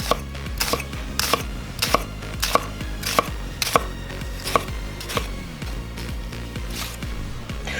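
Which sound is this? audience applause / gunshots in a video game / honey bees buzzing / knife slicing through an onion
knife slicing through an onion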